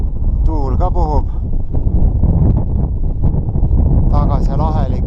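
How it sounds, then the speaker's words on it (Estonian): Wind blows on a chilly day in the La Sal mountains of Utah, a loud, steady rumble buffeting the microphone while a person speaks over it. "Tuul ka puhub."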